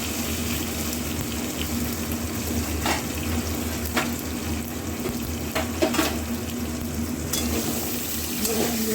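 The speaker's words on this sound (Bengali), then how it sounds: "এটা দিয়ে নুন দিয়ে বেগুনগুলো ভালো করে ভেজে নেবো, নুন আর হলুদ দিয়ে" Eggplant pieces fry in hot oil with salt and turmeric, a steady close sizzle running throughout with a few faint clinks from the pan, and a voice briefly heard under it.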